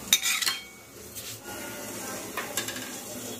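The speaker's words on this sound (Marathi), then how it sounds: "हे आपल्याला ढवळून घ्यायचं आहे." Potato and coconut mixture stirred in a kadhai, opening with sharp metallic clinks of a spoon against the pan, then softer scraping and shuffling close by under a faint background hum, without talk.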